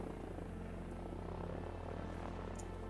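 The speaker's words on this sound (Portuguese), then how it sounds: "Tem um helicóptero ali no canto." A helicopter in the Sunkenland survival game gives a faint, steady low engine drone throughout, as if idling at a distance, with no voices over it.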